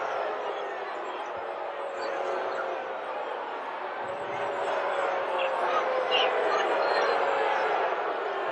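Home crowd at a college basketball game between the Bradley Braves and Indiana Sycamores, a steady broad roar of disapproval swelling slightly toward the end, heard from the arena at a distance and sustained throughout.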